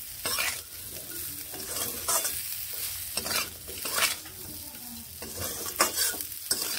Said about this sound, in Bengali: হলুদ গুঁড়ো দিয়ে ভালোভাবে মিশিয়ে এইভাবে আরও একটু নেড়ে নিচ্ছি।